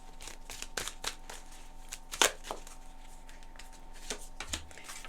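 Tarot cards are shuffled close by in quick, uneven bursts of riffling and slapping, with one sharper flurry in the middle, soft and dry against a quiet room.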